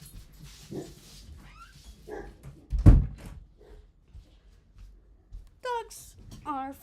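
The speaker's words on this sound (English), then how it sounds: "Dogs are flipping out because a mailman is delivering a scary box" Dogs go off at a mail carrier bringing a box, with one loud bark burst in the middle and high yips and whines near the end over low room noise and faint voices.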